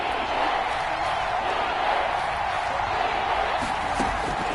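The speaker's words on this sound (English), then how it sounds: "The crowd getting into it as we come up on a big 3rd down." A stadium crowd in a Madden football game, a broad, steady roar of cheering with no clear peaks, while a voice speaks over it.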